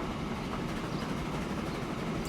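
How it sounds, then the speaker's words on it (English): A steam freight train runs in the Transport Fever rail game, a steady continuous rumble and rolling clatter of wagons with no breaks, moderately loud and unaccompanied by talk. "You're a beautiful, beautiful train."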